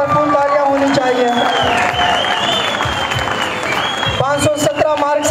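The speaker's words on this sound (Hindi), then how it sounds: "भरपूर तालियां होनी चाहिए" A school crowd claps and cheers for a student at a Teacher's Day event, a dense sustained wave of applause with shouting voices and music-like tones running underneath.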